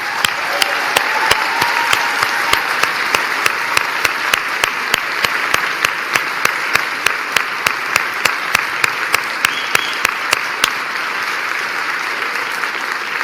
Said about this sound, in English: Can we please applaud them?